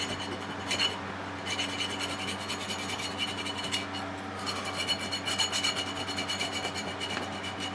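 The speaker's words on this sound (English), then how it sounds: "get this edge right here down inside. So just lightly filing" Light filing along the edge of a lathe chuck backing plate, a steady scratchy rasp that runs the whole time at a close, quiet level, with a low hum underneath.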